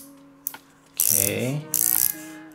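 A Kingrinder K6 hand coffee grinder is adjusted, giving clicking, ratcheting mechanical sounds in short bursts, with a brief spoken word near the start.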